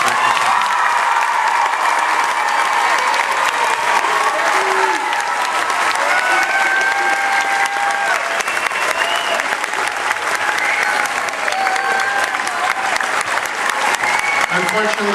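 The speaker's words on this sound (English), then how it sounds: "Let's have a huge round of applause." Sustained applause from the audience at a middle school spring concert, loud and continuous with scattered cheers and crowd voices mixed into the clapping throughout.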